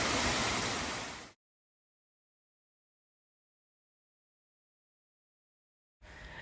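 Cascade Falls in Virginia, reached by a hiking trail, gives a dense, loud, close roar of rushing water for just over a second, then cuts to silence before the roar briefly returns.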